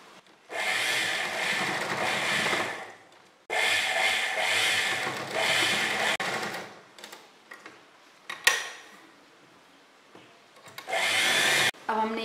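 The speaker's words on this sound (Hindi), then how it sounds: "अब हम इस पर सिलाई से इसको जॉइंट कर लेंगे। तो पहले हम यहीं से मशीन चलाते हैं।" A sewing machine stitches cloth for a kurti in close, whirring runs with rapid ticking, three bursts of a few seconds each separated by quieter pauses with small handling clicks.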